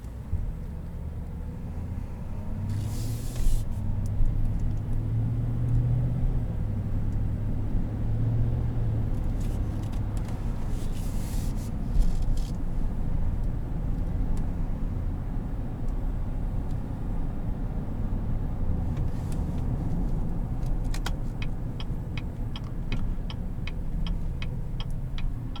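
A 2017 Chevrolet Silverado 1500 High Country pickup driving, heard from inside as a steady low road and engine rumble with occasional clicks and ticks over the full length.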